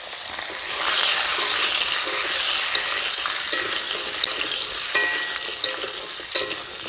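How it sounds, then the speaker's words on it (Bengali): Potatoes frying in hot oil in a pan, a bright steady sizzle that swells as they go in, with a few light clicks of a utensil, close and alone. "তেল গরম হয়ে রয়েছে, আমি আলু কটা দিয়ে দিচ্ছি।"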